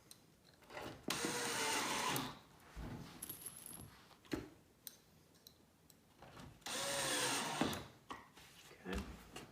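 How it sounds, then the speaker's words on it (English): Power driver running pocket screws into a farmhouse corner bench during assembly: two longer whirring bursts and a few short ones, with handling clatter between and a voice speaking faintly. "just line the pins up, slide it together, and then just install the pocket screws."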